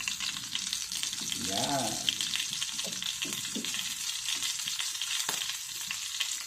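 Tilapia sizzles steadily in a pan of hot oil, a continuous crackling hiss with some stirring, while someone speaks briefly over it.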